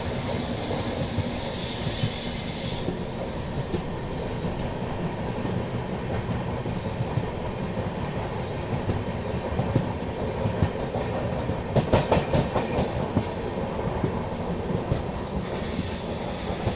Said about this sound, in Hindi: अपनी ट्रेन कानपुर सेंट्रल का यार्ड जो है ना, गुड्स यार्ड अप साइड का, उसे पार कर रही है